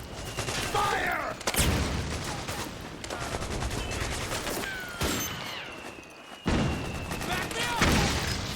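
Gunfire in the PS3 game Metal Gear Solid 4: Guns of the Patriots, with dense bursts of rifle and machine-gun shots and booming blasts rolling continuously over a battlefield, along with shouting voices.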